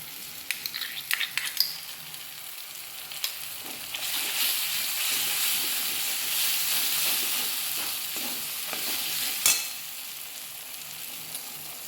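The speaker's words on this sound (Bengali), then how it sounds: "এবারে আমি পোস্ত আর চারমগজ বাটাটা দিয়ে দিচ্ছি" Poppy seed and melon seed paste goes into a pan for a green jackfruit curry, with a few sharp spoon clicks first, then a steady, fairly loud sizzle and frying hiss while it is stirred, plus one sharp knock near the end.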